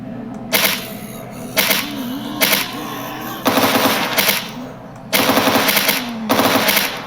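Bursts of gunfire from the video game Anomaly, played as a recon scout slogging through a bog, ring out in repeated rapid volleys of sharp shots, loud and close, separated by short pauses over a low ambient background.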